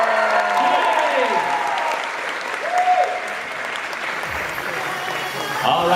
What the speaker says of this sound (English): A big applause, people!